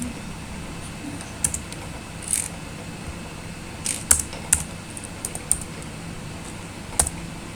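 Computer keyboard typing during data analysis work in R, heard as sparse, irregular clicks and short bursts of keystrokes over a quiet room hum, close and fairly crisp, with no talk.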